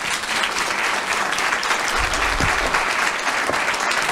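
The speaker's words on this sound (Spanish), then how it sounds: "Un aplauso" A panel audience at a rural sheep-farming program event claps steadily and loudly throughout, a thick continuous round of applause with a few low thumps partway through.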